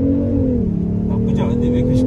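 A Jaguar XJ accelerating in sport mode, with its synthetic engine sound generator adding a steady, droning engine note that rises slightly then holds, loud and close from inside the cabin, with a voice partly over it.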